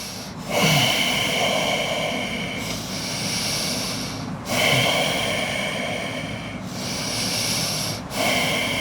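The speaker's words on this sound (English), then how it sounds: "just take a couple deep breaths here" Slow deep breaths during a yoga-style spine stretch, each long inhale and exhale close and clearly audible, repeating in a steady rhythm with no talking.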